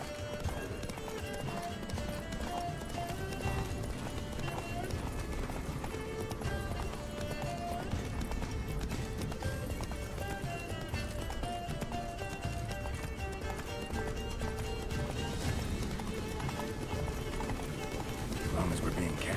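Roach the horse gallops in The Witcher 3, hooves clip-clopping in a steady rapid rhythm under continuous music and spoken dialogue, with a possible brief whinny.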